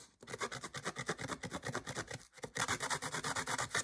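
Paper edges on a mini flip-book album are distressed by vigorous rubbing, producing close, rhythmic rasping strokes in a fast, even series, with one short pause before the scraping resumes harder.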